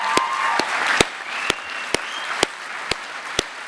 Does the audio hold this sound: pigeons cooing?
no